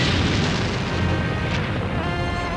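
Bombs exploding during a German night air raid on London in autumn 1940: a dense, loud, continuous rumble of blasts and booms with no talking.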